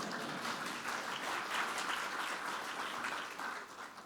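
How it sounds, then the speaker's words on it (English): Conference audience at an opening ceremony in Singapore gives a moderate round of applause, steady even clapping that tapers off near the end. "Yes, you can clap as well."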